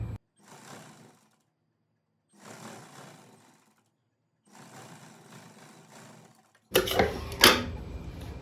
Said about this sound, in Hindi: इसे पलट के ऐसे सिलाई लगानी है।